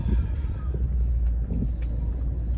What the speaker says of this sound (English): Hold on, cars, don't run me over.